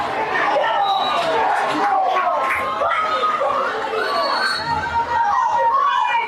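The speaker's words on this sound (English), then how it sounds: "As you can hear, the crowd's starting to get a little excited here." A crowd at a girls' varsity soccer final between Stonington and Chariho chatters and calls out excitedly, a busy murmur of many voices with occasional shouts at a steady, fairly loud level.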